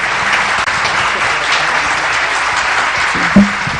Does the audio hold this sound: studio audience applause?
yes